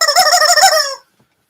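A chicken squawking in one loud, close, warbling burst of under a second that cuts off abruptly into silence.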